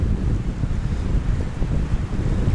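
Strong gusting wind buffets the microphone beside a river during autumn pike fishing, a loud continuous low roar that rises and falls without a break, with no talk.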